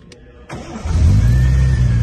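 1973 Triumph TR6 engine starting: a brief click, then the starter cranks and the engine catches into a loud, close, low rumbling idle that holds steady; no talking.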